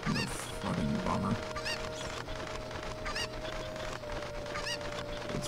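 Chickens in the video game Ocarina of Time give repeated squawking, honking calls over a steady background hum, with several bursts spread across the stretch.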